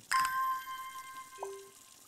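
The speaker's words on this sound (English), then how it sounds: "Let me water these plants so I can get some more will to travel." A bright chime rings out while plants are watered in the game Strange Horticulture, and a second, softer and lower tone follows about a second later, each lingering briefly over faint background.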